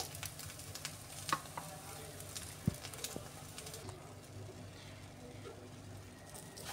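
An onion egg omelette cooking in a pan gives a faint, steady sizzle, close by and quiet, with a few soft clicks and scrapes and some faint background noise.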